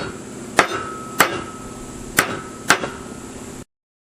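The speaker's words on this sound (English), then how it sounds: "final set hip rivets by hitting each one approximately 8 times" Four sharp metallic hammer strikes setting rivets in a round baler belt splice, at uneven intervals, close and loud, each with a brief ringing decay over a low background hum.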